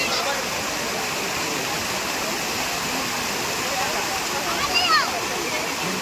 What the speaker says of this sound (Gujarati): નીચે સરસ મજાનો પર્વત ઉપરથી ધોધ પણ પડી રહ્યો છે